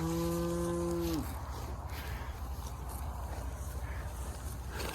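A cow moos once, a loud, close, drawn-out bellow lasting about a second at the start. A quieter farm background of low rumbling and scraping follows, with no talking.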